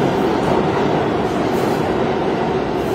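A train rumbles continuously at a station, a steady loud roar of rail noise with no gaps and no voices.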